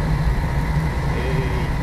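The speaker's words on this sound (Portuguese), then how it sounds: "O ronco do motor é bonito demais" An old Cometa Flecha Azul bus, an ex-Viação Cometa CMA coach on the streets of Fortaleza, rumbles with a steady, loud low engine drone, close and continuous with no talk.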